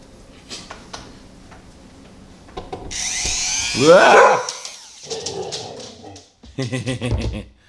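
A dog barks and yelps in short bursts while its nails are trimmed with a WEN rotary tool, with a whining, rising cry in the middle and a quick run of sharp barks near the end.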